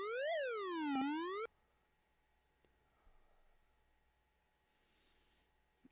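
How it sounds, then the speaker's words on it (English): A police car siren in an Amiga video game wails loud as a synthetic, rising and falling electronic tone for about a second and a half, then cuts off abruptly into near silence with faint ticks. "Oh, I just turned on the siren."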